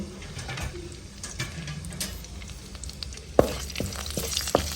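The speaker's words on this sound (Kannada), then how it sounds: "ಇವಾಗ ಒಗ್ಗರಣೆ ಚಟಪಟ ಅಂತ ಸಿಡಿತಾ ಇದೆ" Mustard seeds, green chillies and curry leaves crackle in hot oil, a steady close frying hiss topped by sharper pops that grow busier toward the end, with no talking.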